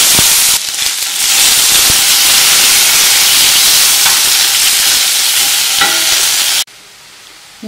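Onion, garlic and tomato fry in oil in a pot with a loud, close, steady hissing sizzle and faint stirring ticks, cutting to a much quieter level near the end.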